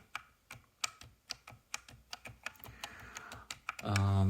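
Steady keystrokes on a Keychron K5 Pro or Logi MX Mechanical keyboard, about three per second, each a sharp muted clack; a louder low rumble cuts in at the very end.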